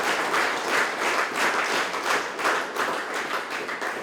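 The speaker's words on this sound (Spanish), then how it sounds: "le pido que le demos nuevamente un fuerte aplauso al Señor" A congregation at an evangelical church service claps and applauds together in a sustained, even wash of hand claps, fairly close, with no voices heard.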